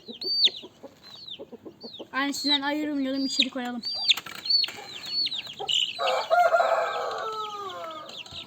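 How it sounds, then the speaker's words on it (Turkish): A big-headed Indian rooster crows in loud repeated calls mixed with clucking and other fowl sounds close by, with a person speaking briefly. "Bir koca kafalı bir Hint horozu bu."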